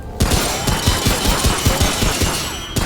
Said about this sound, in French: C'est vraiment gâché tes munitions, Patrick.